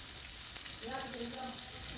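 Steady sizzling of ground masala frying in hot oil for ridge gourd curry, close by, with a faint clink of stirring partway through.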